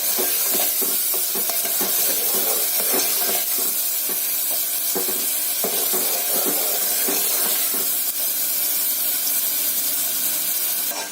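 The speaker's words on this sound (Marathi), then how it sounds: "मसाला छान खमंग होऊ द्यायचा।" Masala roasts in oil in a pan for green chili saar, giving a steady, loud, continuous sizzle and hiss with crackling pops throughout and no voices.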